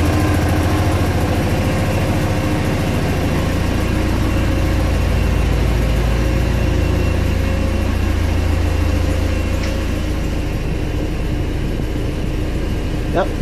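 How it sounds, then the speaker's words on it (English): A Porsche engine idles steadily while warming up during a cooling-system bleed, a smooth low rumble holding the same pitch throughout and heard up close with no talk over it. "It is running smooth."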